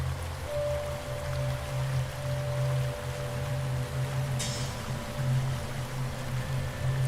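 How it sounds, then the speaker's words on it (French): Water in an underground stream laps and trickles, making a steady close wash of gentle burbling with a low continuous rumble beneath and one brief splashy drip. "Tu entends plus bas le clapotis d'un courant d'eau souterrain."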